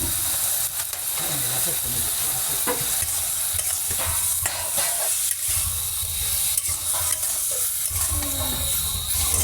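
Palm fruit pulp sautéed in a pan for a palm pulp korma, giving a steady loud sizzle and hiss with repeated scraping stir strokes throughout.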